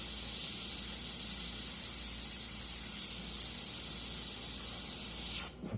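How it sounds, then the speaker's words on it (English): Steady hissing paint spray on a Mustang hood runs continuously for several seconds, then cuts off abruptly at the end. "A little more spraying in here"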